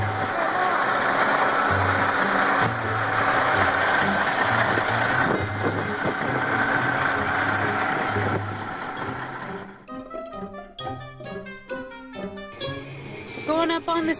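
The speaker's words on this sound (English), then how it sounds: "We're walking up to the truck so you guys can hear what it sounds like." A semi truck's diesel engine idles with a loud, steady low rumble for most of the stretch, then drops quieter near the end as other rhythmic mechanical sounds and clicks take over.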